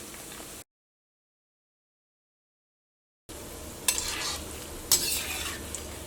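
A spicy crunchy snack deep-fries in oil over a medium flame, giving a steady close sizzle that cuts out for a few seconds and then returns with sharper bursts of bubbling and stirring.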